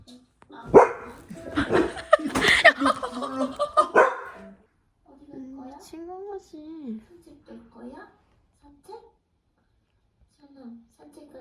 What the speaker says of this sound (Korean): 이 자신을 보는 강아지